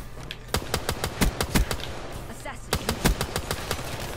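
M14 rifle fire in a video game comes as single loud shots at a fairly slow, steady pace in two separate strings with a short gap between them.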